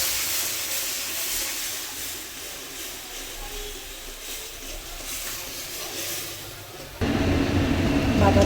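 Lai leaf paste fries in oil tempered with black cumin while being stirred, a steady broad sizzling hiss that carries on throughout and grows louder and harsher near the end.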